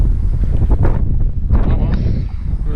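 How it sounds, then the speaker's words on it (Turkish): Strong wind batters the microphone on a boat deck in a loud, continuous low roar, with muffled voices faintly breaking through in places. "Sağlam bir rüzgar var"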